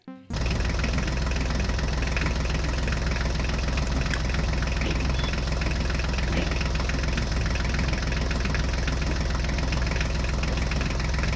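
A small toy tractor engine drones steadily and loudly with a buzzing, rattling tone, running without pause and no voices over it.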